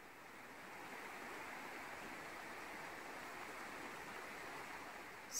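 Water pours steadily from a waterfall, a constant soft broadband rush, even and unbroken, moderately distant and faint, with no voices.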